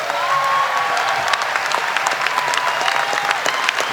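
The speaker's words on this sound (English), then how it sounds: "Jim Kenney is receiving a standing ovation, second standing ovation from the crowd" Standing ovation for Philadelphia Mayor Jim Kenney at his acceptance speech: dense, sustained applause from a large crowd of over a thousand, steady and loud throughout with scattered claps standing out.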